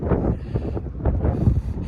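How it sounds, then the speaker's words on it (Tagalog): Gusty wind buffets the microphone with low rumbling roars and rushing noise, loud and close throughout. "Sobrang lamig. Lakas ng hangin pa."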